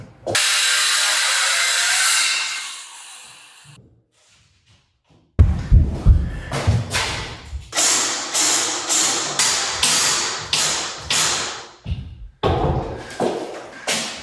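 A power tool, likely a drill or driver, fastens a wood piece behind drywall: one long whirring run, a pause, then a series of short bursts with ratcheting stops, loud and close.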